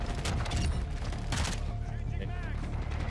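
Rapid MP5 submachine gun bursts crackle through a video game's busy soundscape, dense repeated shots with mechanical clatter under continuous background noise.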